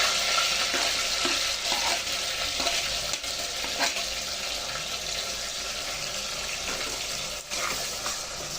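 Chopped onion frying with garam masala in oil for a spicy vegetable pulao, giving a steady close sizzle with occasional stirring scrapes and no talk.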